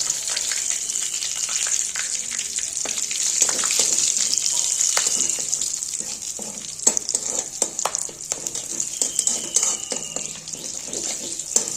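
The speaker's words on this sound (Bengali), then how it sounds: "তো ফোড়নটা তো আমার ভালো মতো ভাজা হয়ে গেছে।" Whole spices fry in hot oil with two dried red chillies: cinnamon, cloves, cardamom, bay leaf, panch phoron and cumin. A loud, steady, close sizzle carries on throughout, with scattered pops and spatters and no voices.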